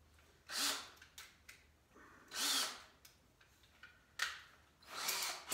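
A power drill runs in several short bursts, whirring up and stopping as it drives small screws into pilot holes in wood during hutch building, with quiet pauses between runs.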